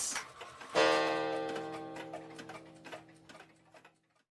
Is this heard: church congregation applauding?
no